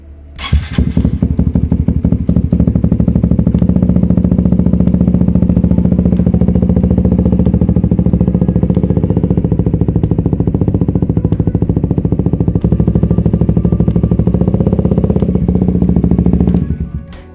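A Suzuki GSX 150 motorcycle fitted with a VMAX V15 aftermarket exhaust idles loud and close, a steady throbbing burble for about sixteen seconds before cutting off, with no talking.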